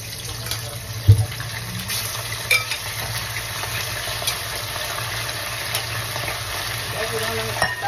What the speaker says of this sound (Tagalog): mainit na ang mantika, ilagay na natin ang ating spare ribs